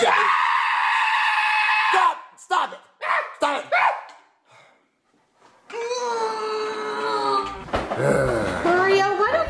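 A child cries and screams loudly at a dinner table, with long high wailing stretches broken by sobbing gasps and a short quiet gap before the screaming resumes.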